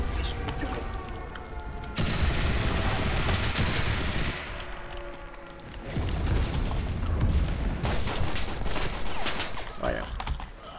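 Bombardment and gunfire in the Enlisted war game: sustained loud bursts of automatic fire and booming blasts, continuous and dense, with a voice talking briefly underneath.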